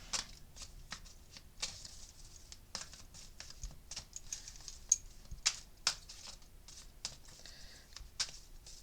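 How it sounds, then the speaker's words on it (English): Repeated riffling and crisp flicking of playing cards being shuffled, in quick bursts with short pauses, close up and fairly quiet. "All right, let me give him a shuffle. I'll do that a couple more times."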